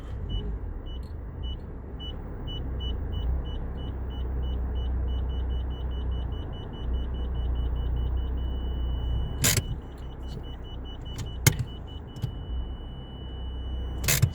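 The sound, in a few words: car parking sensor constant beep, Nissan Juke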